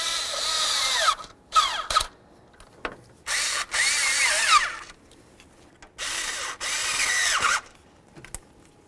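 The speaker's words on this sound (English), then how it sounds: "If you're using an electric bit driver," Electric bit driver tightening hose clamps during a water pump replacement on a 1992-2000 Chevy Tahoe, several short whirring bursts of one to two seconds separated by pauses, close and clear with no talking.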